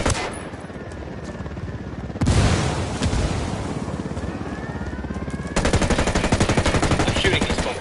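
Gunfire in Ghost Recon Wildlands: bursts of automatic rifle fire and a loud blast, ending in a long rapid machine-gun stream, with a voice shouting in the mix.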